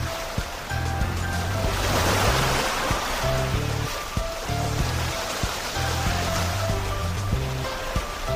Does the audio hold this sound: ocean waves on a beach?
yes